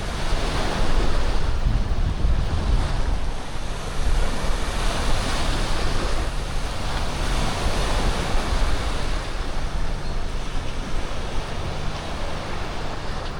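Ocean surf breaks continuously on the beach at Playacar, a broad roaring wash with a few slow swells, mixed with steady wind buffeting the microphone and no voices.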